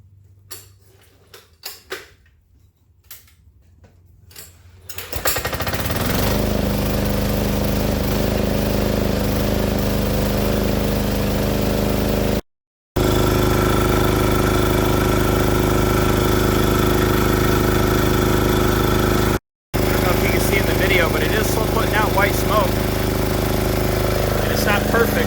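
An MEP 501A military generator engine runs steadily after a quieter start with some clicking, a loud, even mid-pitched drone holding for about twenty seconds with two very short dropouts.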